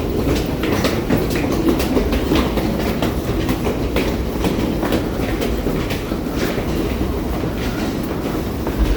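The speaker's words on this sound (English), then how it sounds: "I'm about to head into the subway system, taking line 1, and I'm going to go northbound." Toronto subway train on Line 1 heading northbound, heard from aboard as a loud, continuous rumble with rhythmic clickety-clack of wheels over rail joints.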